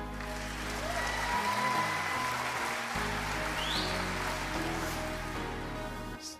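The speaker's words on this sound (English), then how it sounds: "It seemed like you had a longer applause" Studio audience applause welcoming guest Tim Collins on a local El Paso show, a broad steady wash of clapping mixed with a low background hum and faint tonal sounds, sustained for several seconds before tapering at the end.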